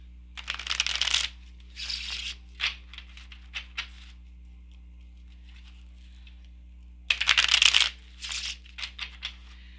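Tarot cards scooped up and shuffled back into the deck after a spill, crisp riffling bursts and light patter coming in several close, uneven waves with pauses between, over a low steady hum.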